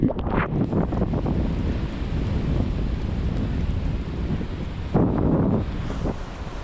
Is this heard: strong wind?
yes